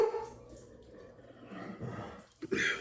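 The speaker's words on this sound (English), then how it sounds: "Now one dog's mad, the other dog's up." A dog at home gives a short bark and some whimpering yips against quiet room noise, with a louder burst near the end.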